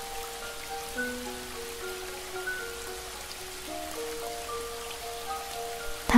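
Steady rain falls in a forest, a soft even patter that runs throughout beneath gentle sustained musical tones.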